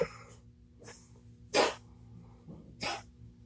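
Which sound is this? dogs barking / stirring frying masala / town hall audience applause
dogs barking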